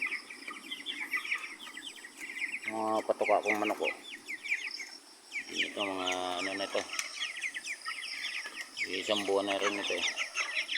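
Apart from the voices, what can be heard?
chickens clucking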